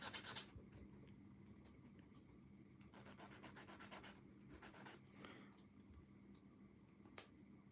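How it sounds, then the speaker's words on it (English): Plastic model kit part being sanded by hand, short bursts of quiet rubbing and scraping strokes in an irregular rhythm, close up, with brief pauses between passes and a faint tap near the end. "sand that"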